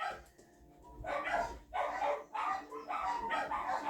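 Several dogs bark in bursts indoors, with about four loud overlapping barking outbursts at fairly close range.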